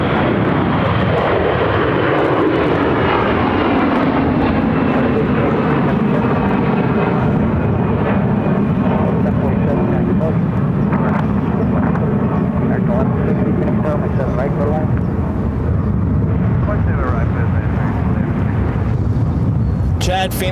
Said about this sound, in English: This is Delta Flight 1047 to Minneapolis on an A321-200.